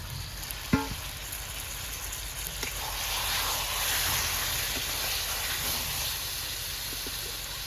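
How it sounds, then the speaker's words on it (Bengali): Chicken pieces sautéing in a cooked-down spice paste for Bengali-style vapa chicken, a steady broad frying sizzle that swells slightly midway, with one brief clank near the start and no talking. "মশলাটা আমার কষানো হয়ে গেছে আমি মাংসটা দিয়ে আর একটু কষানো"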